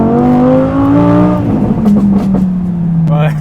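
An Audi R8 accelerates at full throttle, its loud, close engine note climbing in pitch before dropping as it shifts gear, then pulling hard again.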